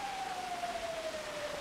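Fire engine siren in the video game GTA V, a single steady descending tone sounding continuously over rain-like noise, fairly loud throughout.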